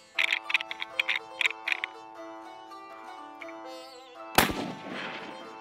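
One loud rifle shot fired at a Coues deer on a hunt in Mexico, a sharp crack with a trailing echo, preceded by a steady tonal hum with rhythmic ticking.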